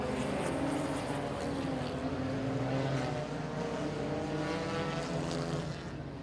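Race cars drone together at the start of a 100-lap enduro at Lancaster Motorplex, a loud, continuous layered engine roar with shifting pitches that carries steadily throughout.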